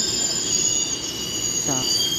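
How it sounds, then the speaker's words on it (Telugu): A fast train entering the station on the Charlapalli side on Hyderabad's MMTS line, its wheels letting out a loud, sustained squeal that rises briefly near the end over a steady rumble. "ఇంకొక ట్రైన్ అక్కడ నుంచి ఫాస్ట్గా ఎంటర్ చేస్తుంది చర్లపల్లి సైడ్"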